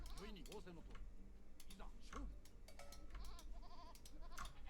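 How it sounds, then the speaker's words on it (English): Sheep bleat in a strategy video game, several short wavering cries scattered over steady game noise and light keyboard tapping, with a voice talking faintly underneath. "Sheep here."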